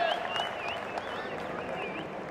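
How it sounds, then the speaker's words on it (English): Racecourse crowd at the Rashid Equestrian & Horse-racing Club in Bahrain applauding and cheering a local jockey after a Group 1 win: steady, dense clapping and crowd noise with bright whistles or calls above it. "Getting a wonderful reception from the crowd as well"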